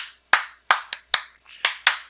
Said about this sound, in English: I do that little clap.